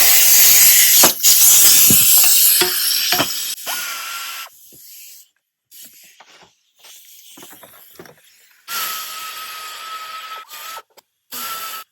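A 10mm air ratchet removes the glow plug module bracket on a Ford 350, with loud hissing, buzzing bursts up front, then quieter intermittent air spurts and pauses, close by.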